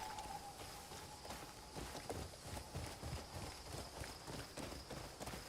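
Horse hooves clip-clop at a steady trotting rhythm in a video game, a continuous run of soft, evenly spaced thuds at moderate distance with no talking.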